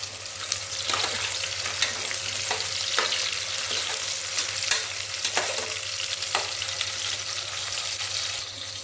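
Onions and green chillies fry for biryani in a steady, close sizzle, broken by a few sharp clinks and scrapes from stirring, with no voices.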